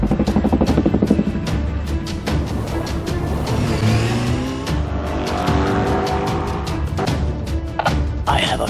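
Stop-motion brick-built police pursuit with a car engine revving hard and tires squealing as vehicles race along a road, with loud, continuous motor noise and skidding.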